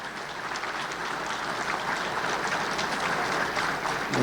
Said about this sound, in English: let's give them a big round of applause for helping our community.